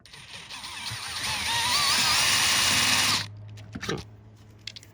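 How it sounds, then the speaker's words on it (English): A power drill bores out mounting holes in the hinged bar of a twin bed frame on a Winnebago Travato, whining loudly for about three seconds with rising pitch, then stopping abruptly, followed by faint clicks and handling noise. "So first I have to drill out the 4 holes on the hinged bar that mounts to the bed frame"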